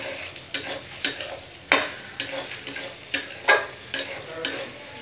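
A spatula stirs mutton mince curry with capsicum in a pan, scraping and tapping the metal in a steady series of close, crisp strokes over a faint sizzle.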